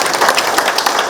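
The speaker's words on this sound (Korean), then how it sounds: "우리 고맙다는 뜻에서 큰 박수를 부탁드리겠습니다." An audience at a Gyeongsangbuk-do provincial governor's community meeting in Yeongyang County claps together in a brief, loud burst of applause, dense and steady with no voices over it.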